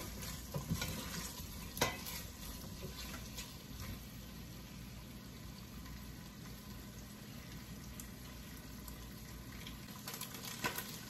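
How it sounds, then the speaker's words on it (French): Meat frying in oil in a pot while being stirred for an okra and mushroom sauce, a steady close sizzle with occasional scraping stir clicks, no talk. "Je vais maintenant rajouter un peu d'huile pour griller ma viande avec."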